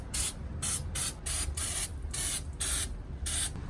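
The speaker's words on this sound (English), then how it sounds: "We're going to be using brake cleaner, so just spread it and it will be good to go." Brake cleaner sprayed onto a rear Dana 44 differential: about eight short, sharp aerosol hisses in an uneven rhythm, each a fraction of a second long, close and moderately loud, with a low background rumble between bursts.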